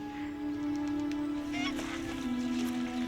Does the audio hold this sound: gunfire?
no